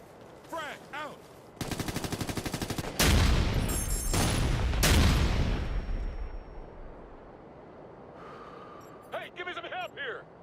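Gunfire and a frag grenade blast in the shooter game Ghost Recon Future Soldier: rapid automatic bursts give way to a loud, rumbling explosion that slowly fades, with voices speaking around the shooting.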